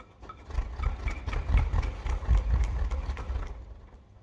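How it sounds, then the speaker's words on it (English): A flat wooden bull roarer on a string is whirled around, producing a steady low throbbing roar with pulsing surges, close and fairly loud, then cutting off abruptly. "This one's called a bull roarer, okay, attached to a piece of string. Nice flat piece of wood."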